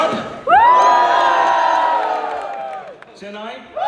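A large crowd of Team India fans at the Birmingham 2022 Commonwealth Games screams and cheers loudly in a sustained burst. It fades toward the end, and a second shorter roar rises just after.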